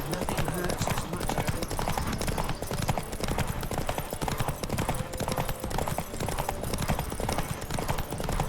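Horse hooves gallop in a fast, steady drumming rhythm in The Witcher 3 video game, loud and continuous throughout, with a busy layer of other game sound around them.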